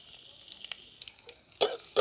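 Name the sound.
chopped garlic frying in oil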